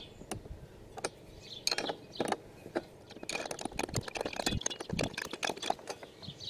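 Screwdriver tightening the blade on a Bosch Rotak lawnmower, giving faint irregular clicks, scrapes and ratcheting taps close by, with no speech.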